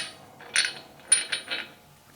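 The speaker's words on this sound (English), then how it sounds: "Now we can put that washer back on." A metal washer is slid back onto a truck's wheel hub axle during a wheel bearing replacement, making a few light metallic clinks and taps, close and clear against a quiet background.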